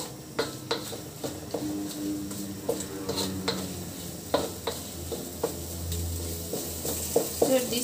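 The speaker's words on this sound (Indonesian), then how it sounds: "Jadi saya masukkan serai, daun jeruk, dan daun salam, kita goreng." Lemongrass, lime leaves and bay leaves frying in a pan for a beef rawon dish, with a steady sizzle under repeated sharp scrapes and clinks of a stirring utensil against the pan, close and moderately loud.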